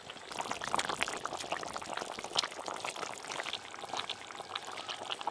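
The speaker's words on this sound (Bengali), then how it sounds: "এবার ভাজা মাছগুলো দিয়ে দেবো।" Fried katla fish going into a boiling curry of cauliflower and potato, heard as a steady, dense bubbling hiss with scattered splashes and pops close by, no voices.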